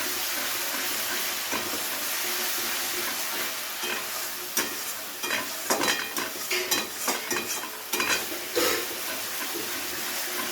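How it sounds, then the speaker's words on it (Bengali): Spice paste frying in oil in a pan sizzles continuously while a spoon stirs and scrapes through it in a run of sharp, uneven knocks and clatters that grow busier toward the end. "আবারও একবার খুব ভালো করে নাড়াচাড়া করে নিলাম।"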